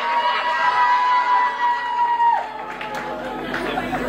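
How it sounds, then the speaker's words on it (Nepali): Guests at a Nepali wedding reception cheer and whoop in a dense, loud crowd roar with overlapping shouts and voices, fading slightly toward the end. "उहाँहरू सबैले एकचोटि ताली बजाउनु त उहाँहरूको लागि प्लिज।"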